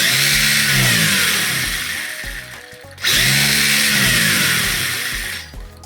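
The electric motor of a DEERC H16E RC car on 3S power revs hard in two long whining bursts, each rising and then spinning down, loud and close.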